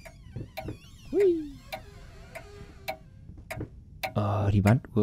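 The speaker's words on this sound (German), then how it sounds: "Oh, die Wanduhr. Standuhr, so." A grandfather clock in the horror video game Layers of Fear ticks in a steady, evenly spaced rhythm, crisp and moderately loud, while someone speaks briefly over it and a louder voice breaks in near the end.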